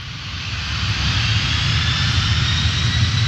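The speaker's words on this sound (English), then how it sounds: "Like this heavy transport military aircraft." A heavy military transport aircraft flies over a wildfire, its engines producing a loud, steady droning roar that swells slightly and then holds constant, with no voices heard.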